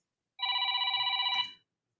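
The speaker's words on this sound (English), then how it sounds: "Okay, let's take this phone call." An incoming call sets off one burst of telephone ringing: a single clear, trilling electronic ring lasting about a second and stopping abruptly, with no voices over it.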